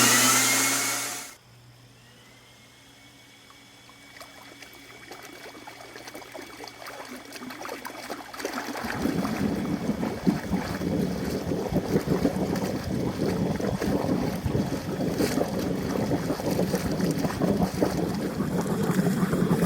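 An air blower forcing air through a 2-inch pool skimmer line run back from the pump house, starting as a low hum, then swelling into a loud, continuous rushing roar with bubbling, gurgling turbulence.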